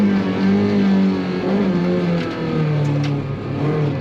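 A rental car on a race track in Japan revs and accelerates steadily, its mid-pitched engine drone rising and holding, heard close with no talking.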